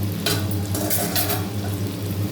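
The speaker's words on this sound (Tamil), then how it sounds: "இன்னும் கொஞ்சம் நேரம் காயை வதக்கிட்டு நம்ம வந்து மிளகாத்தூள் எல்லாம் சேர்த்துக்கலாம்" Ridge gourd and small country tomatoes sautéing in a pan give a steady, close sizzle with soft stirring scrapes throughout, no voices.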